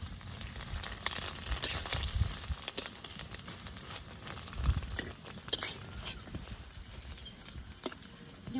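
Duck eggs frying in a pan give off a soft, continuous sizzle and crackle, fairly quiet and close, with faint bits of talk now and then.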